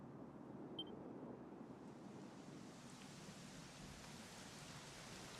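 Steady rain falls in a video game, a soft even hiss that stays faint and constant throughout with no voices over it.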